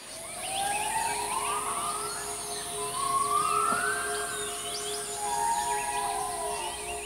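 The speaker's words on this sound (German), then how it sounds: "Ein vielstimmiges Konzert mit hellen Riefen von Gibbon" Gibbons call in the tropical forest of Kaeng Krachan National Park, Thailand, just after six in the morning: several long rising, swooping whoops overlap in a chorus at moderate distance, over a steady high insect drone.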